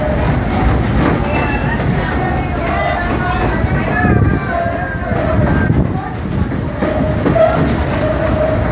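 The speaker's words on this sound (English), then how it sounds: "You guys probably want to know a little bit about the train that we're riding on." Steady rumble and rattle of a tourist train rolling along rails at Stone Mountain Park, continuous and close, with a faint voice or two murmuring underneath.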